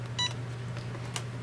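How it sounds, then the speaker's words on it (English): A small Cricut EasyPress heat press gives a short electronic beep, then a brief second chirp, faint against a steady low hum. "once the easy press beeps, we can move it over to the side"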